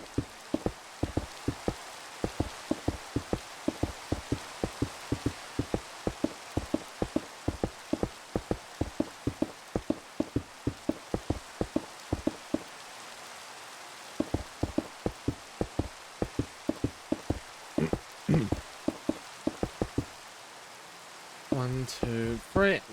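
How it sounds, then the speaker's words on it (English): Rain in a Minecraft-style blocky survival game patters as a steady series of sharp, rapid ticks and drips, close and moderately loud, continuing throughout with a brief shift of tone near the end. "And it's raining."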